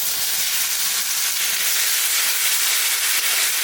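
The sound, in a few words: tomato puree added to frying onions, sizzling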